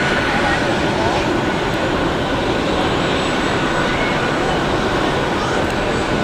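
An airliner on the Budapest flight passes at Zurich Airport, heard from an observation deck as a loud, continuous broadband jet roar, steady throughout and fairly close, with no clear talk over it.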